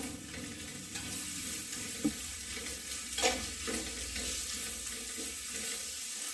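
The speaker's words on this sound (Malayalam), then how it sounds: "എല്ലാം കൂടി ഇളക്കി യോജിപ്പിച്ച് കൊടുക്കുകയാണ്." Fish molee ingredients being stirred together in a pan, with a soft sizzle under scraping stirs and a few sharper knocks of the spoon against the metal.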